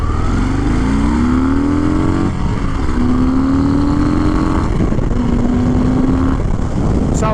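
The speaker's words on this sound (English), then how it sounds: "Of course, we've got the iconic V-twin sound." A 2021 Harley-Davidson Fat Bob's V-twin engine pulls through the gears in three rising surges, each pitch climb cut by a shift, loud and close over steady wind rush while riding.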